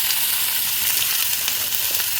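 Chopped onion, ginger, garlic and green chilli sautéing in a pan for egg rice, giving a steady, dense sizzle and frying crackle close up, continuous throughout with faint stirring and no talk.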